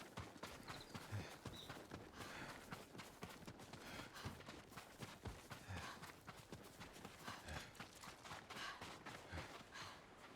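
Horses walk in the video game Ghost of Tsushima, their hooves clip-clopping steadily and close over a busy outdoor ambience.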